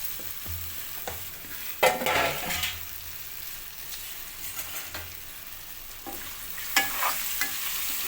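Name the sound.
stir-frying potatoes with onions in a pan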